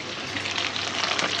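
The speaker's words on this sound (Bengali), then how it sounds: "কত সুন্দর করে মাছ ভাজছি" Fish frying in hot oil in a kadai, giving a loud, continuous broadband sizzle that holds steady from start to finish.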